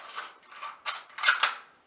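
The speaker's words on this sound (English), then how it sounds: "take your scissors again and cut straight up the middle" Scissors cutting up the middle of a cardboard tube, a few crisp, close snips and scrapes in quick succession with no voices.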